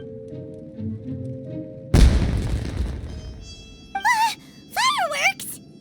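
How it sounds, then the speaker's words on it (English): A single deep, booming firework blast bursts in Genshin Impact, sudden and loud, then rumbles and fades away before voices speak. "It sounded like fireworks."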